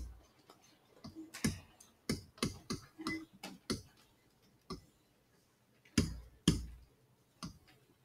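Students in a classroom click away on keys, producing scattered, irregular sharp taps of varying loudness, some close and some fainter, with short quiet gaps between bursts.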